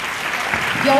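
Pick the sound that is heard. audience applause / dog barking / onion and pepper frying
audience applause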